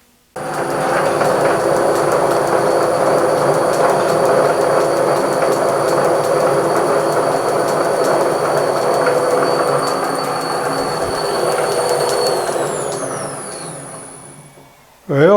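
A pre-1907 Hardinge Cataract bench lathe runs under belt power at its high speed of about 1200 RPM, a loud steady whine and rumble with a high tone that slides down as it spins to a stop near the end.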